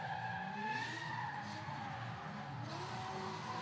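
Drift car tires squealing and skidding during an RDS drift-series warm-up run, a sustained wavering screech with engine note underneath, heard at a moderate distance without pause.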